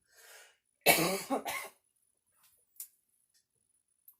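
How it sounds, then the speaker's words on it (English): A single close, sharp cough burst with a quick second part, preceded by a faint breath and followed by quiet small clicks. "I'm going to cough again."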